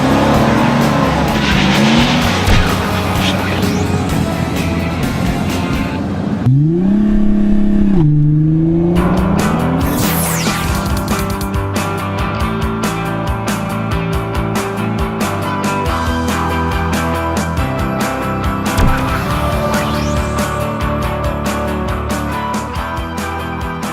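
A 2014 Mercedes-Benz E250 BlueTEC diesel with a 2.1-litre inline-4 bi-turbo drives by, its engine note rising and falling through gear changes with a tyre squeal partway through, loud and close over continuous road noise.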